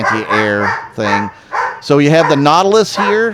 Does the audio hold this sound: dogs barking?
yes